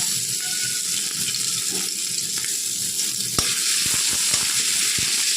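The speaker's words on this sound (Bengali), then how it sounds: "এবার এর মধ্যে দিয়ে দেবো কিছুটা গ্রেট করে রাখা আদা।" Grated ginger sizzles loudly in hot oil with black cumin and slit green chillies, a dense continuous frying hiss close by with a few stirring knocks and no speech.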